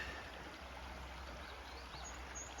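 A creek flows at sunset, giving a soft, steady wash of running water that stays faint and even, with a light bird call high above it.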